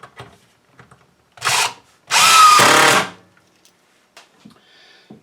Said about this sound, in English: And then we can put some screws in these guys.